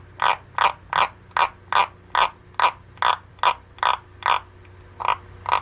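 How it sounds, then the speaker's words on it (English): A White's tree frog croaks in a steady run of about fourteen loud, evenly spaced calls close by, with a faint constant hum underneath and no voices. "putting frogs next to my bed probably wasn't the smartest idea because they do croak a lot"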